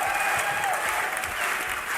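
Dense, steady applause from a large crowd at a Dota esports match, a continuous roar of clapping filling the whole stretch with no pauses.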